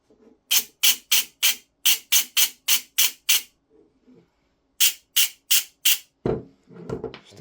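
A scratchy Silverback MDR-X gearbox is turned by hand in quick rasping bursts, first a fast run of about a dozen, then four more, close and fairly loud.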